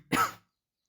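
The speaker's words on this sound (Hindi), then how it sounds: "खांसी नहीं खत्म हो रही।" A single short cough or throat clearing, close and fairly loud, then silence.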